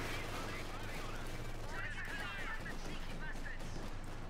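Light machine gun fire from Bren-armed British infantry sections in Company of Heroes 2, heard as faint, distant bursts of rapid shots under a steady battle din, with a commentator talking over the action.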